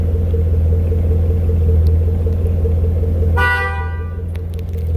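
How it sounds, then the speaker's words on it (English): A 2013 Chevrolet Camaro with a 6.2L V8 gives a loud, clear horn honk partway through a tire sensor relearn, heard over a steady low engine idle rumble. "you're gonna get a double honk once it goes through"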